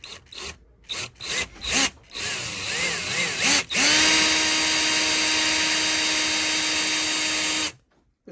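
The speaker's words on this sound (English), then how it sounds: "next I'm just going to drill a hole through this" A power drill bores a hole through the broken center track of a drawer: a few short stop-start bursts, then a steady, close, whining run of about four seconds before it stops.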